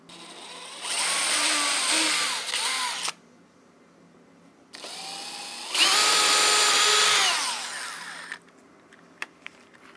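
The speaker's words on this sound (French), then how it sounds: "On va tracer deux repères pour réaliser les pré-perçages." A power drill bores pilot holes into the wooden panel of a wood-and-metal 365-litre compost bin: two loud, close whirring bursts a few seconds apart, each rising in pitch as the bit spins, with a pause and a quiet click between them.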